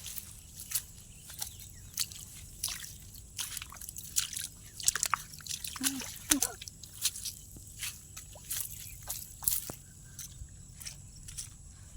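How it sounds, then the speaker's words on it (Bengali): Footsteps squelch through muddy water in a waterlogged vegetable field, with wet squishes and drips coming at an uneven walking rhythm, close by and fairly quiet. "এই দেখো জল পাইয়ে যেতে হচ্ছে, কাদা জল"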